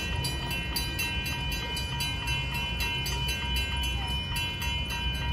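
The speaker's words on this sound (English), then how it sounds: "Let's hear that raised letter K5LA horn." An Amtrak train rolls past at a railroad crossing, a continuous loud rumble with rhythmic clacking of wheels over rail joints, while a steady tonal horn sounds over the passing cars.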